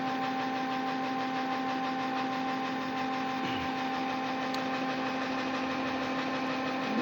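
A motor and alternator combination running off a 12 V DC input, a steady droning hum with a strong tonal whine, constant and close throughout, with no speech.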